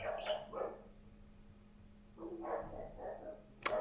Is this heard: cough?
no